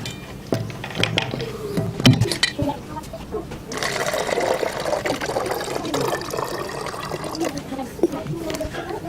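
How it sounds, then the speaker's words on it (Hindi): Water is poured from a container into a bottle of moringa juice meant as a plant spray, making a steady gurgling fill sound throughout, loud and close. "इसमें आधा लीटर में पानी इसमें मिक्स करने लगा हूँ।"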